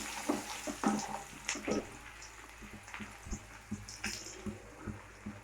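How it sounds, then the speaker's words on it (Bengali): Onion fries lightly in fish oil with cumin seeds, giving a soft, steady sizzle. Scattered clinks and scrapes of stirring in the pan punctuate it. "পেঁয়াজটা আমরা হালকা করে ভেজে নেব।"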